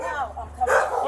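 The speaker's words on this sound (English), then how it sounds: "Got some guard dogs in" Guard dogs bark at a home during a police arrest, a short loud bark bursting out near the end after a brief whimpering tone, with a voice speaking nearby.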